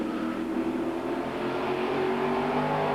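TVR Tuscan race cars roar into Lodge corner at a circuit, a loud sustained engine drone with pitch shifting as they brake and accelerate through the bend, close by and without voices.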